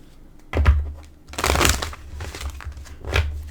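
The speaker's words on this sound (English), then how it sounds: "I got my Greek mythology cards with me, and I'll shuffle them a few times on the camera." Greek mythology tarot cards are shuffled close by in a few quick riffling bursts, crisp papery rustles and flutters with brief pauses between.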